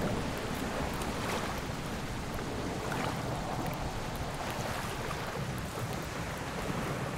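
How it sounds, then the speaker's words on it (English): Steady rain in the survival video game Project Castaway, a dense, unbroken hiss and patter that holds at an even loudness throughout, with no voices. "It's still raining though."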